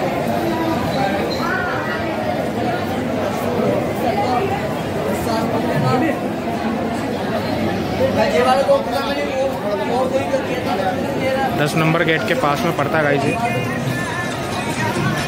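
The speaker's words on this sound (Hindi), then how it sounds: "कितनी भीड़ है गाइस, ये है त्रिपोलिया गेट है।" Dense crowd at Tripolia Gate of Ajmer Sharif dargah on a Friday, a steady hubbub of many voices and shuffling footsteps filling the space throughout, with someone speaking close over the babble.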